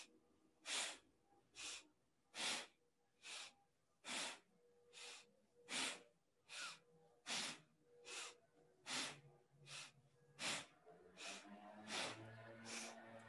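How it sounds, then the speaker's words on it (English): Forceful Bhastrika bellows breathing during a yoga warm-up, about fifteen sharp, evenly spaced breath bursts close to the mic, with a faint low hum underneath toward the end. "And we breathe with Bhastrika, synchronizing with the movement."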